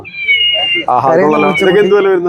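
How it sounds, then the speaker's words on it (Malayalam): A high, whiny electronic meow from a toy kitten repeats close by, mixed with a person's voice talking over it. "കരയുന്ന പൂച്ചക്കുട്ടി കരയുന്നത്"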